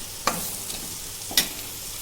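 Onions dropped into hot oil seasoned with asafoetida, giving a steady close sizzle with two sharp spatter bursts in quick succession.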